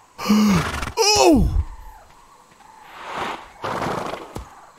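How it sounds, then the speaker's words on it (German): A horse in the video game ARK gives a whinny that falls in pitch, close and loud, followed by breathy snorts and groaning sounds. "Ich höre aber das verkorkste Pferd immer noch."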